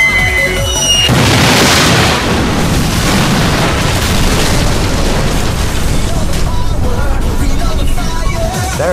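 Loud, continuous rumbling bomb blasts from bombers striking a nickel refinery in a video game, a dense wall of booming detonations lasting several seconds after a short quieter lead-in.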